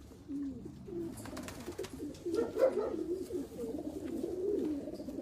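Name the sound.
racing pigeons cooing in a loft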